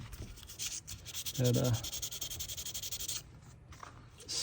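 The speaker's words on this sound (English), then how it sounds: "coming off pretty well on the sandpaper" A stag knife handle is rubbed back and forth on sandpaper in quick, rhythmic scratchy strokes, close and fairly loud, with a brief spoken word in the middle.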